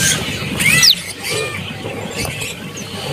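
Sharp high chirps and squeaks from caged birds, including swiftlets, rise over a market's background bustle, one clear call near the start and softer tweets later.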